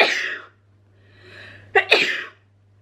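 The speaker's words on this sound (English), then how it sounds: "I'm gonna sneeze." A single human sneeze with a short wind-up breath before it, loud and close, breaking into two sharp bursts near the end, with no talk.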